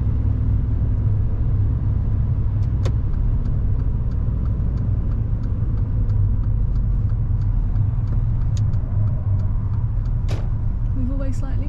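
A car pulls over to park on the left just ahead of a silver car during a driving lesson, heard from inside as a steady, loud low engine and road rumble with a few faint clicks and no talk.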